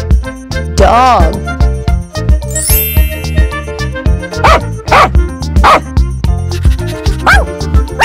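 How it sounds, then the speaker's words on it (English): A dog's barks pop out in short bursts over an upbeat children's alphabet song, mixed with bright chimes and tinkling accents; the barks are clear but sit within the busy music. "dog,"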